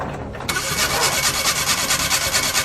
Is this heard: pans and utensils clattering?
no